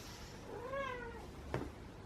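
A house cat lets out a single clear, fairly faint meow with a rising-then-falling tone in a quiet room, followed by a brief soft knock.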